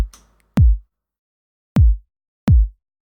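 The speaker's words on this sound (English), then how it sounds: "here's my kick" Three punchy electronic kick drum hits, each a deep thump with a short booming tail, spaced irregularly with silence between them.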